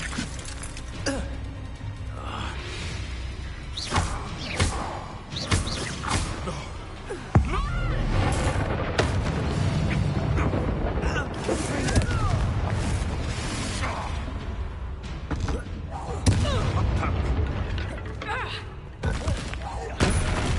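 Repeated booming blasts and thuds from the Confringo explosion spell in Hogwarts Legacy, dense combat effects under continuous game music and talk, with sharp bursts recurring throughout.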